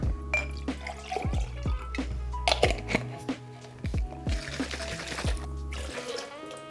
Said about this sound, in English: blend 500 grams, 500 ml, half a litre of water. I'm just gonna add it straight into here